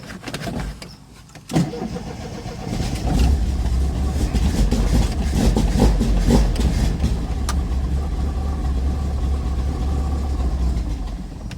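A Triumph TR7 engine, starved for fuel, runs roughly after a brief quiet start, then holds a loud, uneven, throbbing drone with ragged surges for the rest of the stretch.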